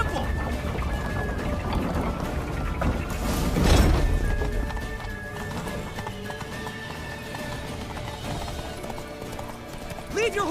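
Horse hooves gallop in The Witcher 3 with a steady rapid clip-clop, a neigh rising midway, and voices and game sound layered over the running.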